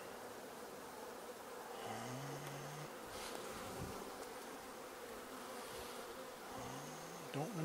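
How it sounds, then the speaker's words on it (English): Honey bees at an open hive, Hive 2 in October, give a steady close buzzing drone that holds throughout, with occasional louder individual bees passing near and no talk. "Good number of bees here."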